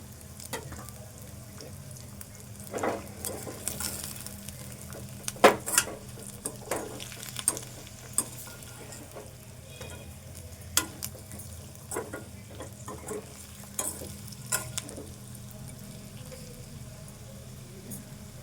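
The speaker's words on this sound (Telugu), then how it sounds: "ఇది ఆలుగడ్డ ముక్కలు ఇందులో వేసుకుందాము." Fried potato pieces tipped into a pan and stirred, a soft continuous sizzle with scattered scraping and knocking of a spoon against the pan, fairly quiet, with no talking.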